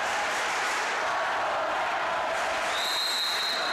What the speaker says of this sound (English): And the Loyola crowd fired up.